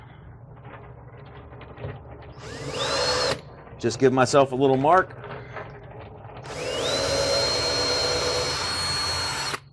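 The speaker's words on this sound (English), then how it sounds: "drill my hole" A power drill bores a mounting hole for underwater boat lights, with two sustained whining runs, one short and one longer, plus a brief burst of speech between them.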